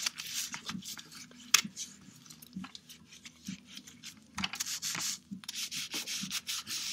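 Cloth or wipe rubbing along the track of an ABC Model 4100 pump during cleaning, giving soft, quiet scrubbing strokes in uneven bursts with brief taps between.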